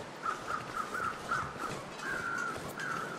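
Crows in The Long Dark, a wilderness survival video game, cawing in a rapid series of harsh calls, about a dozen short caws in quick succession followed by a few longer drawn-out ones, moderately loud over quiet wind ambience.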